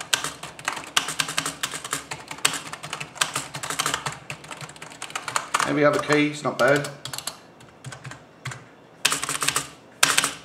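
Rapid, clattery keystrokes on a Mad Catz S.T.R.I.K.E.7 gaming keyboard, loud and close, with someone talking over parts of the typing and short pauses between bursts.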